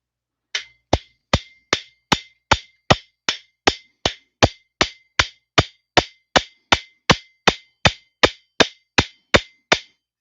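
Hammer striking a nut threaded onto the crankshaft of a Homelite Super XL-925 chainsaw, about two dozen loud, sharp metallic blows in a steady rhythm, close and alone.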